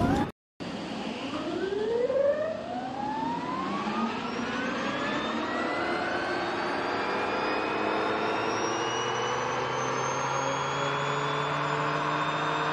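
A Yamaha electric motor spins up with a rising, whining tone that sweeps steadily higher and then holds as a loud, sustained electric whir, following a brief silent gap at the start.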